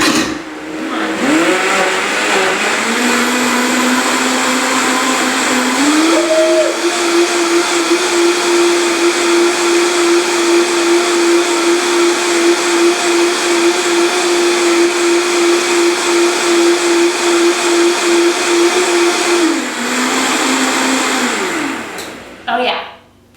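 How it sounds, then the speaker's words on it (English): A blender purees fresh mint leaves in one long, loud, steady whir that climbs in pitch as it gets going, holds for many seconds, then winds down and stops. "And now I'm gonna whir this up so that I can get my mint really pureed."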